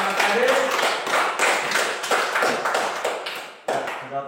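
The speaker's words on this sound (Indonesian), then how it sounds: "Oke, kita berikan aplaus untuk kedua anak tadi." Classroom applause for two young pupils, a rapid run of light hand claps from a small group, fairly close and steady for about four seconds with a brief dip before a final burst.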